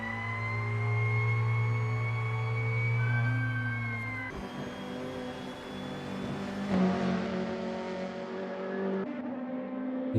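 A Nissan race car engine in a sim racing game, whining loudly at high revs, dipping at gear shifts and changing pitch as cars pass, with no talk.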